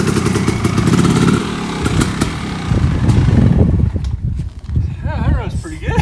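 Kawasaki KX 500 two-stroke dirt bike with an aluminum frame conversion running close by, a rough, steady engine drone with uneven pulses and rattles, briefly dipping before picking back up near the end.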